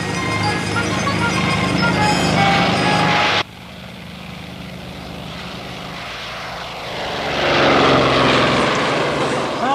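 A propeller airplane roars loudly overhead with a steady engine drone that cuts off sharply, then returns and swells again.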